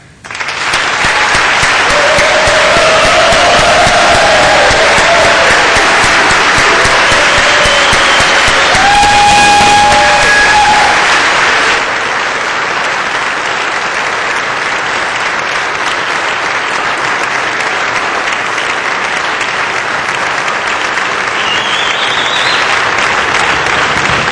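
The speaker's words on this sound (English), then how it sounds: "join me in giving a round of applause one more time to the staff" A large crowd applauds loudly and continuously for a long stretch on a legislative House floor, the clapping dense and sustained, easing slightly toward the end.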